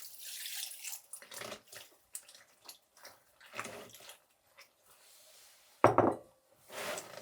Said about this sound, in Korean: 소금물을 배추에 부어줍니다